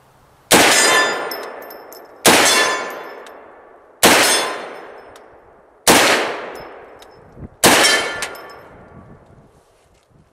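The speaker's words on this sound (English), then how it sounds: "When I hit it, there's no problem hearing it ring." Five loud, sharp metallic clangs of 450 Bushmaster rounds from a Wyndham Weaponry 450 Thumper pistol striking a steel target, evenly spaced about two seconds apart, each ringing out and decaying before the next hit.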